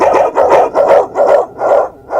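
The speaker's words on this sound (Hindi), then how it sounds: "सारे डॉग्स डेनियल्स पर भौंकने लगते हैं।" Dogs barking loudly and close, six evenly spaced barks in a steady rhythm with short gaps between them.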